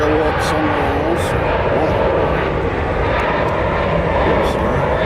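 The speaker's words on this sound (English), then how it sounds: "San Antonio is the next plane. Taking off." A loud, steady roar of jet engines as an airplane takes off from Nashville International Airport, with voices talking faintly underneath.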